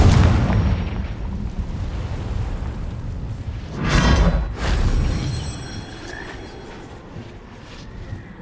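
A Confringo blasting spell explodes in the video game Hogwarts Legacy: one loud, deep, rumbling burst bursts out of steady ambient game noise, then rolls away and fades.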